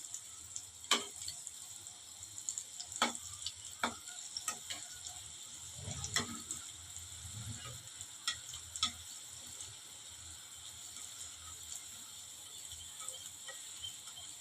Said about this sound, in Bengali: এখন আমি পিঠাটা চুলায় দিয়ে দিছি, লো হিটে ভেজে নিব।